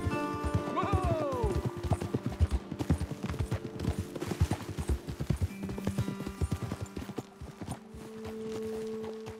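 Horse hooves clip-clop in a steady walking rhythm on hard ground in Red Dead Redemption 2, with a brief whinny early on, fading as a low hum takes over.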